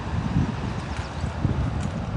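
Wind blows outdoors on a cold day, rumbling and gusting into the microphone in a short, steady burst.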